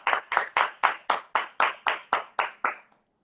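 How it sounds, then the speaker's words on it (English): About ten evenly spaced claps ring out in a steady rhythm, close and loud, then stop, played as audience applause on a game show. "How do you like the applause?"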